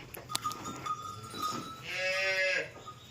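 A heifer is untied and led out at a farm livestock sale, with rattling, bell-like metallic clinks and a short tonal animal call near the end over light background noise.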